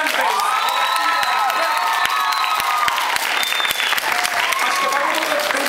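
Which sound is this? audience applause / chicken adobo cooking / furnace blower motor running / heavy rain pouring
audience applause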